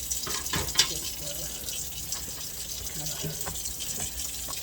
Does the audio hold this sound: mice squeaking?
no